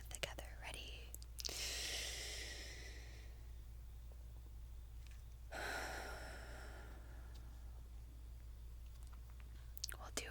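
Slow, audible breaths during an ASMR breathing exercise for anxiety, two long airy inhales or exhales close to the microphone, separated by quiet pauses over a low steady hum, with faint mouth sounds and soft whispery noises at the edges.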